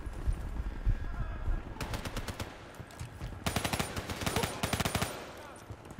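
Gun firing in Call of Duty Black Ops 3, rapid bursts of automatic shots in two main strings with a pause between, loud and close, with game ambience behind.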